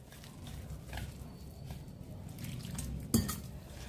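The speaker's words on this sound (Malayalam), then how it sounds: "നമുക്ക് ഇനി ഇതൊരു ബാറ്റർ തയ്യാറാക്കാം" A spoon mixes egg bonda batter in a bowl with soft, wet scraping and faint clinks, ending in one sharper clink against the bowl, all fairly quiet and close.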